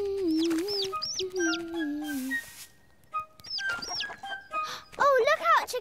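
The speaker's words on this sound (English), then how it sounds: "Oh, look out, chicken." Cartoon chicken clucking and squawking in a sequence of pitched, bouncing calls with short gaps, joined by other cartoon voices and a burst of noise partway through, ending in rapid excited clucks.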